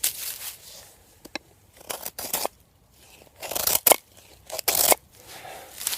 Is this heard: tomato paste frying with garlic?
no